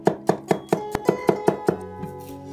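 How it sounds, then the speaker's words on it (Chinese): A kitchen knife slices garlic on a cutting board, about nine crisp, evenly spaced chops close up, then a softer trailing scrape, with no talking. "蒜切片儿"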